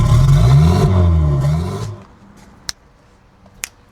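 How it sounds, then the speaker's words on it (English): A turbocharged 1969 MGB engine revs hard for about two seconds, its roaring note climbing and falling close by, then drops to a low idle with two sharp clicks and no talking. "Let's give her a little rev."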